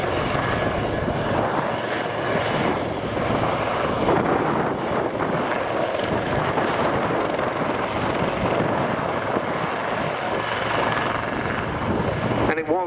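A former Army Lynx AH7 helicopter taxis to the flight line behind a Wessex at the Cosford 2022 air show, its engine and rotor giving a loud, steady roar mixed with wind noise on the microphone.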